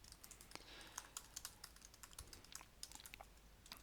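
Rapid, irregular keystrokes on a computer keyboard while code for a Python web API is entered, a quiet run of close clicks and taps with brief pauses and no talking.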